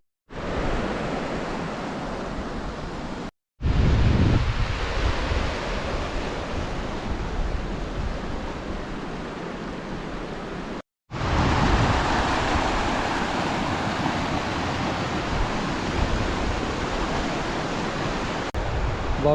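A mountain stream rushes along a trekking route near Gilgit, giving a steady, loud broadband roar of flowing water with two brief cuts. No one speaks.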